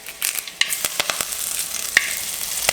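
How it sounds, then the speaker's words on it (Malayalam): Mustard seeds, dried red chillies and curry leaves sizzle and pop in hot coconut oil for a Kerala chickpea roast, a steady close crackle with sharp spits and pops scattered throughout, no voices. "കടുക് പൊട്ടിയതിന് ശേഷം 2 വറ്റൽമുളക് നമുക്ക് അതിലേക്ക് പൊട്ടിച്ചിടാം. 2 തണ്ട് കറിവേപ്പിലയും കൂടെ അതിലേക്ക് പൊട്ടിച്ചിടാം."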